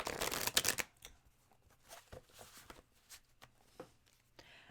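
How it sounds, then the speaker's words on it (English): Tarot cards being shuffled by hand, a dense burst of riffling for about a second, then scattered soft card slides and taps, fairly quiet. "I'll let you shuffle."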